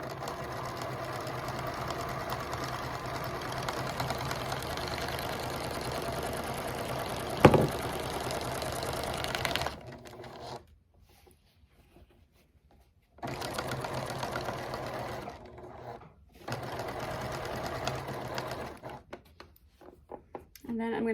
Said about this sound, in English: So start sewing, I'm gonna make sure I do a reverse stitch and tack that really good.